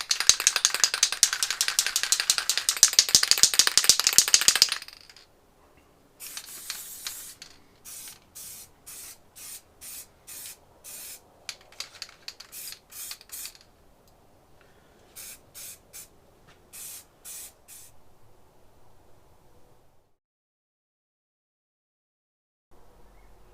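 A spray can rattles hard as it is shaken, then gives a long series of short, even hisses while spray painting Ford Fiesta ST180 headlight parts, close and clear with no talk.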